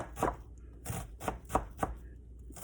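A knife chops an onion into small pieces on a board for shrimp ceviche, about six quiet, close, slightly uneven knocks with short pauses between them.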